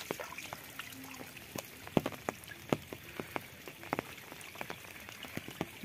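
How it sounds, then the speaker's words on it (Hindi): Rain falls steadily on a village beside flooded rice paddies, close drops pattering and plinking on surfaces over a constant soft wash, with no voices. "बारिश का दृश्य दिखाई दे रहा है हमारे गांव में"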